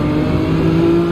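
Race car engines in Gran Turismo 7 during a Gr.2 race at Sardegna, with a Corvette among the cars, hold a steady loud droning hum throughout, with no talking.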